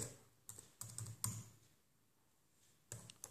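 Typing on a computer keyboard: short bursts of quick clicking keystrokes, close and fairly quiet, separated by a brief pause of near silence.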